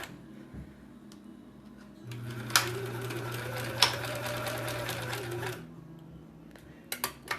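Sewing machine stitching fabric puppy and kitty ornaments, running in one steady whirring burst of a few seconds with a low motor hum, then stopping, followed by a few small clicks.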